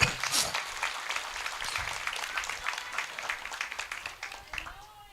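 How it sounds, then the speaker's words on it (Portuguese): A church congregation at a sermon applauds after a Bible reading, soft, fairly distant clapping that fades gradually, with a faint voice underneath. "Vamos aplaudir a palavra de Deus, amados irmãos."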